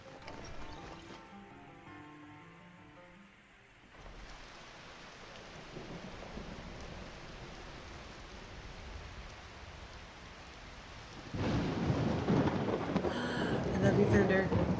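Rain falls steadily during a thunderstorm in the video game Skyrim, with a low rumble of thunder and the downpour growing louder near the end; a voice speaks faintly early on.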